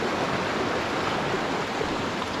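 Water in a stream beside an Appalachian Trail section in Pennsylvania flows fast, making a steady, broad rushing hiss that stays loud and even throughout.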